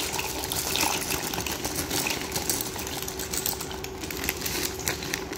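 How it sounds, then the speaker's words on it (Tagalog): A pot of water with pasta in it boils with a dense, steady bubbling and rapid small pops, close and fairly loud, with a faint constant hum underneath. "nagpakulo na ako ng tubig"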